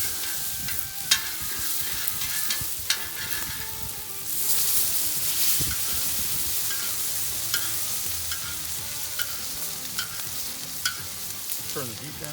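A small knob of butter sizzles in a discada pan over lowered heat, a steady frying hiss broken by occasional clinks and stirring scrapes, a brief surge of louder sizzle midway.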